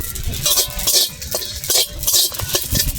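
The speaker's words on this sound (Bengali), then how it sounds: "ভালো করে ভেজে নেব।" Whole cumin and radhuni seeds fry in a hot wok while a utensil scrapes and stirs them in quick, repeated metallic strokes, with a soft sizzle underneath.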